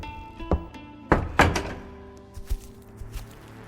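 A door thuds shut with a solid, wooden knock, followed by a couple of softer thumps and settling clunks, close by and otherwise quiet.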